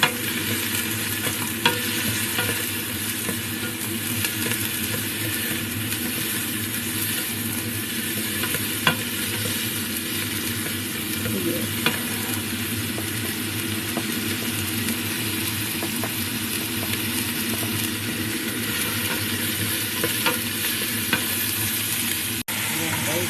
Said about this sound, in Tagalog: Igisa na natin ang beef.